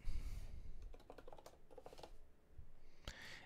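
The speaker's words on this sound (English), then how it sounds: "since we're typing alt and the attached key, we need to put it to lowercase." Fingers type on a computer keyboard during a live coding session, a close, quick patter of key clicks in short bursts with a brief pause and one sharper tap near the end.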